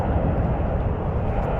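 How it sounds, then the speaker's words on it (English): An aeroplane on approach to Prestwick Airport roars overhead as a broad, steady rumble of engine noise, loud and continuous throughout with no voices. "An aeroplane coming in."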